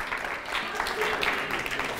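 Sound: applause for Viktoria Aladzhem

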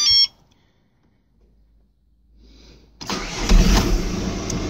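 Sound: Volkswagen Passat 3C BKP diesel engine starting

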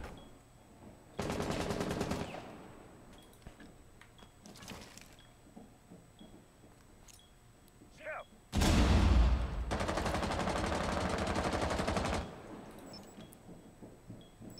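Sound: gunfire in video game

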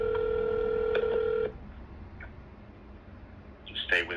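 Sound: telephone dialing and ringing

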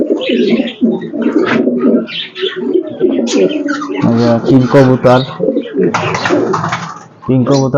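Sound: pigeons cooing

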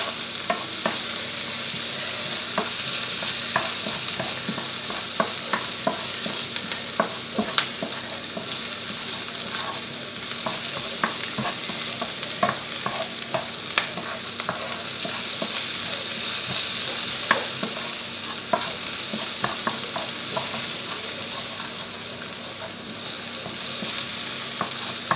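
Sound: onions sautéing in pan until translucent

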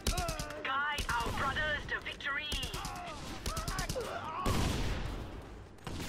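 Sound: shotgun gunfire in video game Just Cause 2

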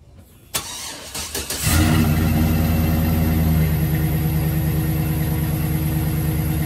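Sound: 2008 GMC Sierra truck engine starting

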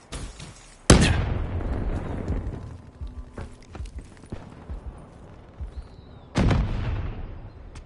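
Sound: frag grenade exploding nearby in a video game

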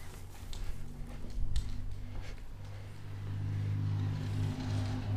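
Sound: car driving past

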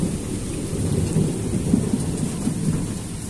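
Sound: thunder rumbling during rain

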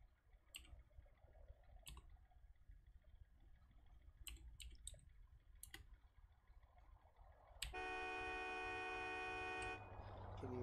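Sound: car horn honking in a video game

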